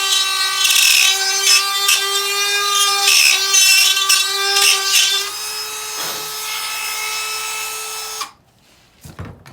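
A rotary tool deepening the dish of a Yemenite shofar mouthpiece gives a loud, steady whining tone with a rasping grind as it works the horn. It cuts off near the end, leaving brief quiet handling noise.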